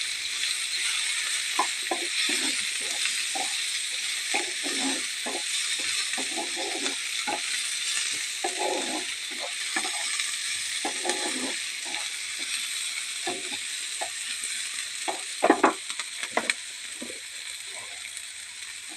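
Chopped onions fry in oil with a continuous close sizzle, broken by frequent stirring scrapes and clinks of a utensil against the pan.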